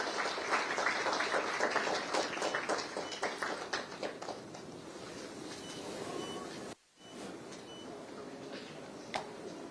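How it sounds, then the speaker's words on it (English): Audience applause at a business interactive session attended by the Odisha Chief Minister, a steady dense crackle of clapping that runs for several seconds, briefly drops out, then resumes at a similar level. "Can we have a warm round of applause again as we witness another important milestone in the growing strategic"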